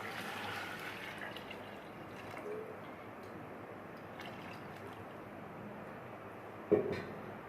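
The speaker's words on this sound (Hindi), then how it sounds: "अब हम इसमें पानी डाल देंगे।" Water poured into a cooking pot of paaye (trotters) seasoned with turmeric and red chilli: a faint, soft, continuous trickle in a quiet kitchen, ending with a brief louder clunk.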